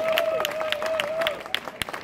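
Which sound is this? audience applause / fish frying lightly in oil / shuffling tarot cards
audience applause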